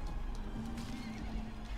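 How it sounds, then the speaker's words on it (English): Horse in the Mount & Blade medieval combat game, a neigh with a sustained tonal whinny over busy battle noise, moderately loud and without voices. "I killed a horse"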